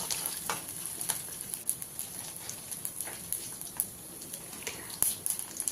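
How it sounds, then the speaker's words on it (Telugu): A tempering of urad dal and chana dal with mustard and cumin seeds frying in oil, a light sizzle with frequent small pops and crackles, close and moderately quiet, no talking. "మినపప్పు కూడా వేసి పోపుని క్రిస్పీగా అయినంత వరకు వేయించుకోవాలి"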